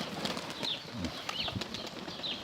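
Pigeons of mixed colours at a dovecote flap their wings in several brief bursts, with soft cooing and faint high calls mixed into a busy, moderately close background.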